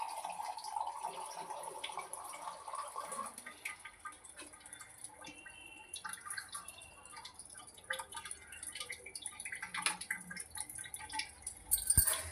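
Water running from the tap of a newly fitted Sharp water purifier, a faint trickling flow with dripping, quiet and close, steady over several seconds and slightly stronger at the end.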